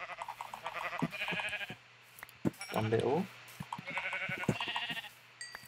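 Sheep in the video game Minecraft give a couple of short bleats close by, alongside clicks, item sounds and someone talking over a faint background hum.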